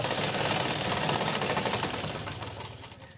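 A sewing machine stitches Patiala pants in a fast, steady mechanical rattle, loud and close, easing off slightly toward the end, with no voices.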